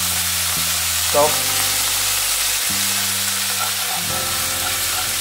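Egg frying in a hot wok while cooking Singapore chow mein, a steady loud sizzle and hiss throughout with a brief stir or scrape near the start, a short word spoken over it.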